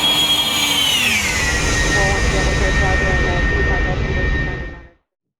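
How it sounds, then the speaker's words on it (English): Cessna 172 engine in the X-Plane 11 flight simulator video game, a steady loud drone with a high whine that sweeps down at the start, then holds level until it cuts off abruptly near the end. "welcome aboard our Cessna 172"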